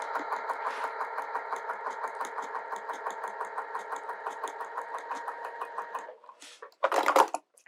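A sewing machine stitches a quilt block in a steady, rapid mechanical chatter for about six seconds, then stops, followed by a short louder clunk or rustle near the end.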